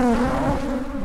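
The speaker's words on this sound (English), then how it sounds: "These are African-sized bees." Close, steady droning buzz of African bees, a dense hum with no voices, brief and fairly loud.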